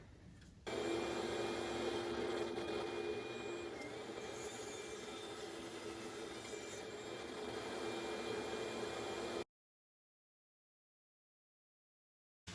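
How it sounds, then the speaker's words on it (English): Bandsaw cutting and shaping wooden handles for a butler's tray, a steady whining machine drone with a constant cutting hiss running for about nine seconds before stopping abruptly. "Here I'm shaping the handles on the bandsaw"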